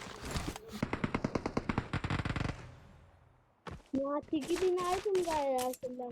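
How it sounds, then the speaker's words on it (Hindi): Video game machine gun firing in a rapid string of loud close bursts, then a pause followed by excited voices talking over the action. "मैं जैसे ही इधर आता हूँ, मेरे को इधर से मशीन गन चलने की आवाज़ आती है"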